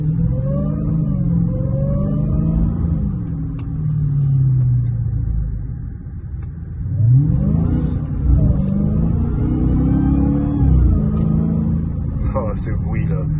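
A Dodge Charger SRT Hellcat V8 accelerating hard, a loud low engine roar rising in pitch through repeated gear pulls, with a person talking excitedly over it.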